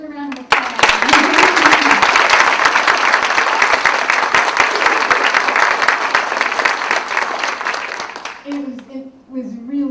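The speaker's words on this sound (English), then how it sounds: "Let's give them all another round of applause." Loud, dense applause from a live audience bursts in and holds for about eight seconds before cutting off, with a voice speaking briefly before and after it.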